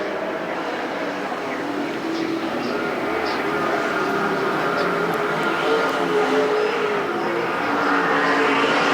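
Super stock race cars roar around the Perris Auto Speedway oval in a heat race, a steady, dense engine drone that builds slightly toward the end, with a commentator talking over the track noise throughout.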